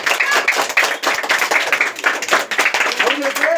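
A crowd claps to welcome a guest arriving at a birthday dinner gathering, a dense, irregular patter of many hands close by, continuing throughout while someone talks over it.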